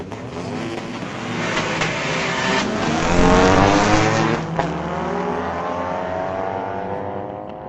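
Street-legal drag race cars launching at Mission Raceway Park: a loud engine roar swells, peaks midway with sharp revving bursts, then recedes into a fading, distant drone.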